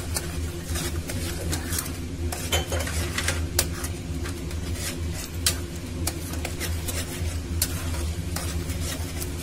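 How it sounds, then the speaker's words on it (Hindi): Besan gravy roasts in a kadhai under constant stirring: a continuous low sizzle punctuated by irregular ladle clicks and scrapes against the pan. "अब हम इसको जब तक भूनेंगे जब तक ये कढ़ाई ना छोड़ दे, तेल बाहर ना दिखे तब तक।"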